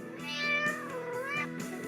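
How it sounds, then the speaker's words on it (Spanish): A cat gives a drawn-out, rising-and-falling meow followed by a shorter second one, close and clear, with no talk. "o un gato."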